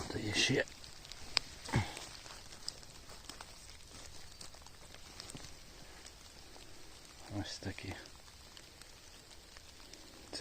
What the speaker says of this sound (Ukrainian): Дощик посилюється.